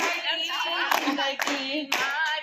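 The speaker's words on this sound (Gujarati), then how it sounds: "તાળી પાડો જોરથી" At a women's bhajan satsang, a group claps hands together in bursts over a singing voice, the claps falling in a few loud clusters beneath the sung melody.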